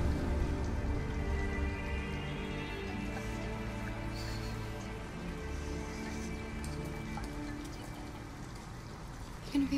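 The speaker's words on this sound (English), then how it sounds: "And we're out in the rain." Steady rain in the video game Detroit: Become Human falls and patters continuously across a surface, an even wash of drops with a low droning hum underneath.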